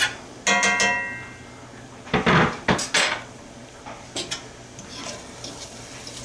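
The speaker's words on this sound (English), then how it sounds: "And just stir them around as they're frying." Onions frying in a pan on low heat are stirred with a utensil, producing scattered metallic scrapes and clinks against the pan, a few louder clusters among quieter gaps.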